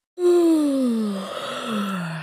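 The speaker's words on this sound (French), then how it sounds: "Je baille." A person yawns once, a long drawn-out voiced groan that slides down in pitch and trails off into a breathy tail, close and alone.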